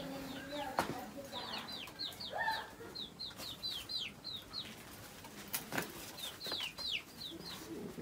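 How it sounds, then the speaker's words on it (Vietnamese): Chickens cluck and chirp in the yard behind a house in the mountains, a steady scatter of short calls near and far with a few sharp knocks, while someone speaks now and then. "Mấy con gà này tránh ra."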